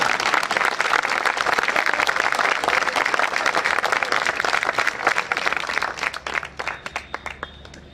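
Applause from a seated audience during a Hindi religious discourse by Acharya Vidyasagar: a dense, even burst of clapping that holds steady, then breaks into fewer, scattered claps as it fades.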